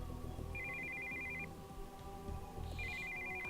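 Cell phone ringtone for an incoming call in the video game Steins;Gate 0, a steady high electronic warble in two bursts separated by a short gap, playing over a continuous background music bed with no talking.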